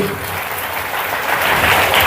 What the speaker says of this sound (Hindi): जोरदार ताली बजा के हालेलुया।